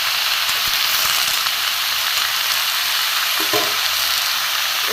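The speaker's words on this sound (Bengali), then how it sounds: "এখানে আমি ভালো করে একটু ভেজে নেব, সবজিটা ভালো করে ভেজে নেব।" Mixed vegetables fry loudly in a pan for a vegetarian panchmeshali chorchori, a dense, constant hissing sizzle with a few faint clinks from stirring near the end.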